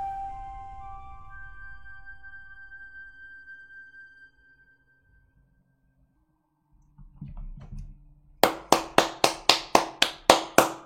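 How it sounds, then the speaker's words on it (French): Hands clapping during a livestream of The Dark Queen of Mortholme: after faint tones and a quiet stretch, about nine sharp, evenly spaced claps ring out close and clear. "J'applaudis, j'applaudis, j'applaudis."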